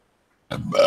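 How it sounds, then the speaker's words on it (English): A single short, loud human burp, close up and abrupt, rising after a moment of silence. "I might time you out because I burped."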